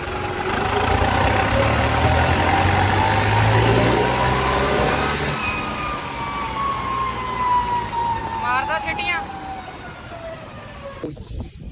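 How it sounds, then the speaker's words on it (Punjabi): A tractor engine rumbles close by while a loud whistle wails in long, sliding tones that slowly fall in pitch, ending with a brief chirping burst. "ਤੁਹਾਨੂੰ ਸਿਟੀ ਸੁਣਾਉਣਾ ਦੇਖੋ ਕਿਵੇਂ ਮਾਰਦਾ ਸਿਟੀਆਂ"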